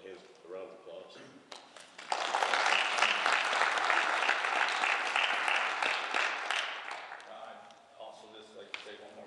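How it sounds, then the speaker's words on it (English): A room of attendees at a Lockport water committee meeting claps for several seconds, a dense, moderately loud burst that swells and slowly thins out, with a speaking voice before and after. "Give yourself a hand, a round of applause."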